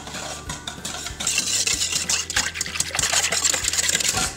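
An ice cream base of whole milk, sugar and a pinch of salt whisked briskly in a bowl, a busy rapid clinking and swishing of whisk against the bowl that stays fairly loud and continuous throughout.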